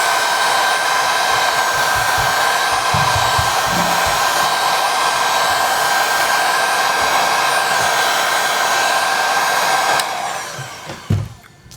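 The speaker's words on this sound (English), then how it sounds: "Okay, I'm gonna use some more heat on this side so it comes off much easier." A heat gun blows in a steady, loud, continuous roar while heating the back glass of a Samsung Note 9, then cuts off near the end, followed by a few small handling clicks.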